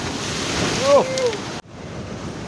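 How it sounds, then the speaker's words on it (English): Surf breaks against a kayak offshore at Pomene, Mozambique, a steady windy wash of waves with a louder surge, while a man calls out briefly. "Waves are coming."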